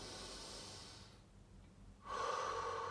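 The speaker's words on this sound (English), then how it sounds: "So big breath in, fill up the chest, breathe out," A deep breathing exercise ends in a long forceful exhale through the mouth, squeezing air out of the chest, then a sharp rising inhale follows; close and fairly loud, with no talking.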